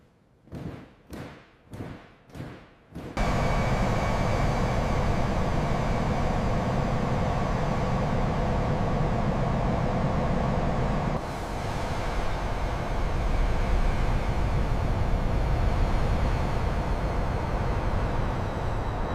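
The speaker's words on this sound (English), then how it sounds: "The air vibrates, the engines howl, the giant takes flight." A US Air Force C-17 transport's engines roar in a loud, steady broadband howl on its takeoff run, after a few quick thumps at the start, with a brief dip before the roar surges again.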